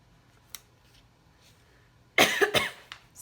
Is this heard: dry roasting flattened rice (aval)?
no